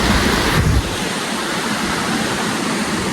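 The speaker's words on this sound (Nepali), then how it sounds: "खोला सानो खोला छ" A small river runs near Dilungtar with a loud, continuous close-up rush of water. The sound swells briefly at the start, then settles into a steady roar.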